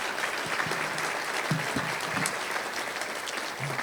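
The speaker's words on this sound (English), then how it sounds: "let's give the Teachers of the Year another round of applause" An audience at a school district Teacher of the Year celebration claps steadily, a dense wash of applause from a large crowd that holds at an even level.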